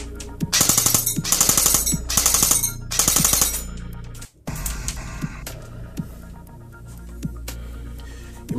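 An airsoft CZ Scorpion EVO 3 A1 fires full auto in three or four rapid, loud rattling bursts, each a fast stream of sharp clacks, followed by quieter handling clicks and rustle.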